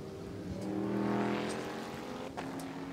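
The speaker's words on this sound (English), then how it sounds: "Corvette Stingray pace car begins to pull away just that little bit" A Corvette Stingray pace car pulls away at the 2014 Sebring race, its engine note rising and swelling into a loud pass, then easing off, with broadcast crowd noise in the background.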